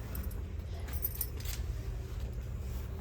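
Keys jangle in short metallic bursts over a low rumbling background, as travellers arrive back at their room in the evening.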